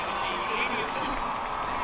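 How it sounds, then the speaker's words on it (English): Stadium crowd applauding and cheering as a United States women's national team player is substituted off in a soccer match against New Zealand, a dense, steady roar of many hands and voices at a distance. "A big round of applause"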